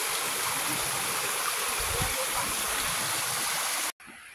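Steady rushing of a flowing stream fills the clip, broadband and continuous, with a faint low thump near the middle before it cuts out abruptly at the end.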